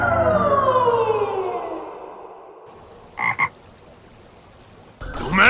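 Frogs croak in an English-dubbed anime fight between Pain and Jiraiya: a loud, warbling, descending croak under faint music, then a couple of short bursts and a rising swell at the end.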